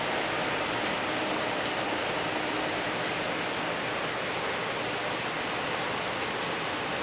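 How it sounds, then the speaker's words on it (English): Heavy spring rain pours down steadily in Idaho, a dense, even hiss of falling water that fills the whole stretch at constant loudness with no voices. "The rain from hell. Still not as bad as it was last night."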